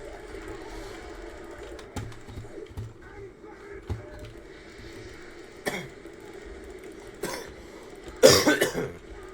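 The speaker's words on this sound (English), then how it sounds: "this cough is killing me" Several short coughs from one person, scattered across a quiet room with a faint background hum, the last one louder and closer than the rest.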